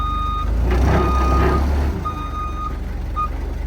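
Steady electronic reversing alarm from a construction machine on a worksite, several evenly spaced tonal beeps sounding over the deep rumble of the running engine, loud and close.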